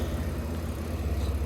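A car engine with a couple of vacuum leaks and an open PCV valve idles nearby, giving a steady low rumbling hum with a slight pulsing and no talking.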